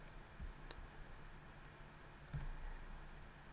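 Computer keyboard keys pressed during a game, a few faint, sparse clicks and taps spaced out over quiet background noise.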